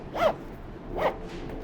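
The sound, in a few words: zipping up a headphone carry case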